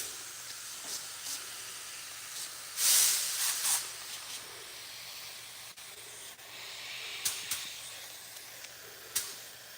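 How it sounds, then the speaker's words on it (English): A small 0.8 mm spray gun spraying paint onto a skateboard makes short bursts of airy hiss, one strong blast near the start and several brief puffs later, over a steady faint background. "actually, Elko, this is like an airbrush."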